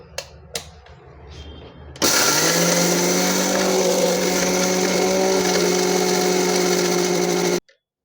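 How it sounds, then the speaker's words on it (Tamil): A kitchen mixer grinder grinds dried red chillies and coriander seeds in its jar, starting abruptly with a loud, steady whirring roar that runs for about five seconds after a couple of faint knocks, then cuts off sharply. "மிக்சி ஜாரில் போட்டேன் இப்போ இதை அரைச்சிக்கிறேன்"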